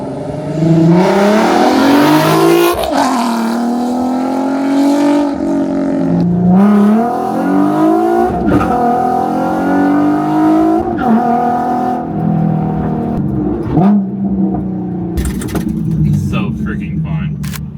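A Nissan 370Z fitted with a 2023+ Nissan Z exhaust revs and surges repeatedly with a throaty exhaust note, rising and falling over a steady drone, while people talk over it.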